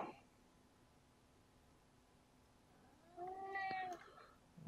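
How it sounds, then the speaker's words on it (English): A cat lets out a single drawn-out, complaining meow, fairly faint against a quiet background hiss. "And I got a complaining cat"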